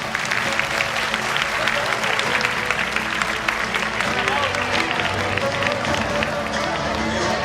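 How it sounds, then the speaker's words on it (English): Parents at a school annual day and prize distribution applaud the rank holders, a continuous crowd clapping that stays steady and moderately loud, with a voice talking over it. "Parents, please clap for them."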